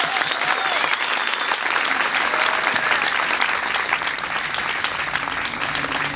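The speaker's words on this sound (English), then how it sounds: "will you join me in giving Vivienne Westwood a round of applause?" An audience applauds loudly and continuously as fashion designer Vivienne Westwood is welcomed to speak at the Frieze art fair, a dense, even field of clapping from a large crowd.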